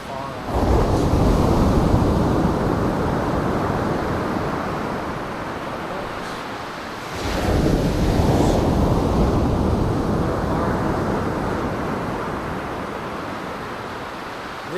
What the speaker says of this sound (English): This surf sounds dramatically different than this, which we can see by the beach.